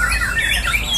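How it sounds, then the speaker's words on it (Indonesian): Magpie robin (murai batu) calling at a songbird contest simulation, a loud, close, continuous run of bright squawking, chattering phrases over a short burst, alone. "Simulasi lomba burung murai batu, cara yang tepat dan efektif melatih mental dan faktor burung murai batu di gantangan lomba."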